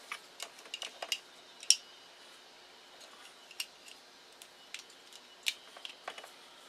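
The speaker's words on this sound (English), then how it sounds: "you're going to want to go ahead and cut your center conductor" Scissors or cutters snip through the center conductor of a coaxial RF cable while a field-expedient connector is being fitted, giving a scatter of sharp, quiet clicks and small snips at irregular intervals, close by, with no talking.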